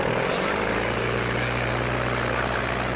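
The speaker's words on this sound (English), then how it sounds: "Bill's going to fly his own plane." A 1937-era propeller plane taking off from an airport, a steady loud droning engine and airscrew roar with a low throbbing hum, continuous and close throughout.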